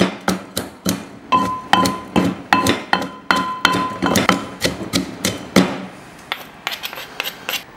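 Sharp rhythmic thuds of a pestle pounding peppers and garlic in a mortar, about a dozen evenly spaced knocks with a ringing clink on some strikes, close and alone.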